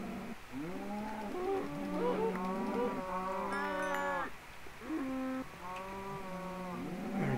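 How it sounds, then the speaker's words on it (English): Several cows mooing in the Minecraft video game, a series of long, loud, overlapping moos one after another in a crowded barn with no talking. "Alright, that's a lot of cows."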